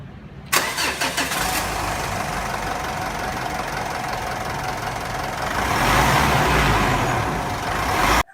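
A car engine cranks, catches, and settles into a steady, even idle close by, swelling slightly louder near the end before cutting off.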